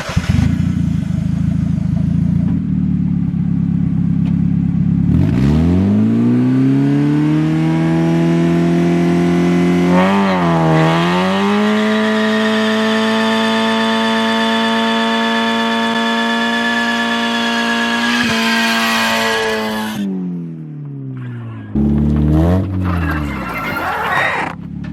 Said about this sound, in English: let me go ahead and just do one standing burnout